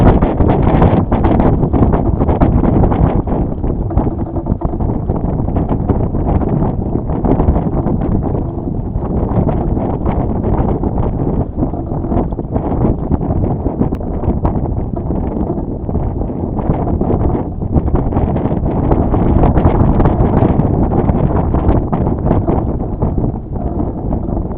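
Strong wind roars without letup across a lake while sailing, buffeting the microphone with dense, loud rushing noise from start to finish.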